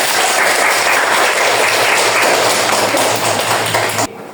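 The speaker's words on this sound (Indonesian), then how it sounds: "Oke, tepuk tangan." A classroom of students applauding together, loud dense clapping sustained for about four seconds before stopping abruptly.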